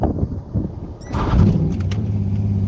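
A Chevrolet C5 Corvette pulling away in first gear, its engine a low, loud rumble that swells after a brief mechanical clack and holds a steady droning tone, heard close with no talking.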